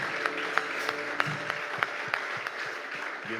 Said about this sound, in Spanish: pueden dar un fuerte aplauso